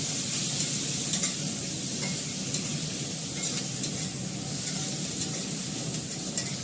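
Fish and sliced onion sizzle hard in a pan on the stove, a continuous close hiss and crackle with small spitting pops throughout, no one speaking.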